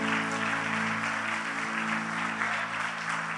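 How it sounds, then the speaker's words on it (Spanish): Continuous loud applause from a church congregation during a sermon, steady clapping filling the room for several seconds with a low hum underneath. "Dale un aplauso fuerte al Señor."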